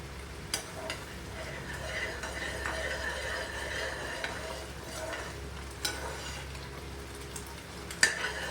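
Steady stirring of thick sweet payasam thickening in a pan, a soft continuous scraping with faint sizzling and occasional sharp clinks of the spoon against the metal.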